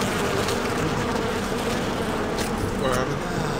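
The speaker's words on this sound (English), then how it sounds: "That's fucking bees, dude!" Swarm of bees buzzing from a broken nest in a video game, a steady dense drone filling the whole moment, with excited voices talking over it.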